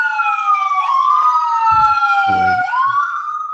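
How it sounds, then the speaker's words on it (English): An emergency vehicle siren wails loudly as it passes outside a street-side shop, its pitch sweeping steadily over a few seconds, with brief low rumbles of road traffic beneath. "let me let the siren go by"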